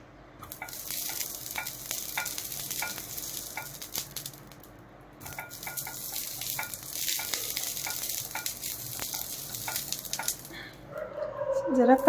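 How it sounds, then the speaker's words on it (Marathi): Oil sizzles and crackles steadily on a hot griddle being greased for Maharashtrian amboli, with scraping and stirring clicks; it pauses briefly and then resumes. "तेल लावूया तव्याला।"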